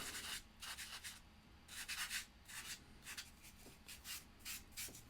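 A scrubber works art medium into paper in quick, faint rubbing bursts, scratchy strokes coming in uneven clusters with short pauses between them.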